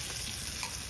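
Potatoes frying in oil and spice masala for Kashmiri aloo dum, a steady close sizzle running the whole moment with no voices.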